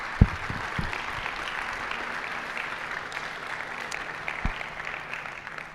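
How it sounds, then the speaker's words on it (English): An audience at a university venture competition finals applauds the event's helpers, an even, steady rush of many hands clapping throughout, with a few thumps near the start and no talk. "Can we give them a round of applause?"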